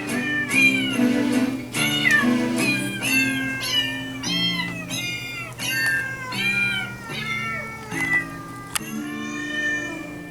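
Christmas song built from recorded cat meows, a steady run of pitched meows sung as a melody over a loud synthesized backing track.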